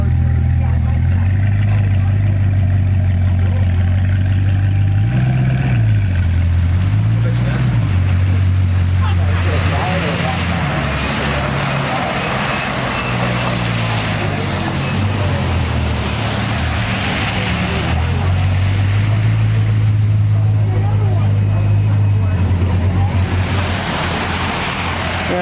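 Bugatti supercars arrive at a rally in Aspen in pouring rain, a steady loud low engine rumble with idling and revving swells, over a wash of rain and road noise, with people talking intermittently.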